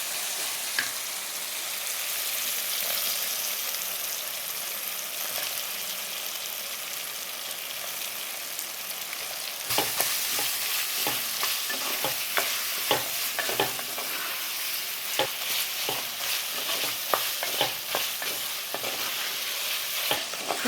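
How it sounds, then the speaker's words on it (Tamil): Sliced ivy gourd (kovakkai) with onion and tomato sautéing in plenty of oil, a steady sizzle and crackle throughout, with repeated scraping stirs of a spatula against the pan from about halfway on. "வெங்காயம் தக்காளி கோவக்காய்லாம் நம்ம எண்ணெய் கொஞ்சம் நிறைய இருக்கிறதுனால எண்ணெயிலே நல்லா வதங்கட்டும்"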